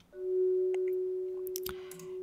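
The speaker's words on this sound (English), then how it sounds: "And here's the swelling sound." Rendered marimba swell patch holding a chord that fades in smoothly and sustains as a steady tone, with a few faint clicks and ticks scattered over it near the end.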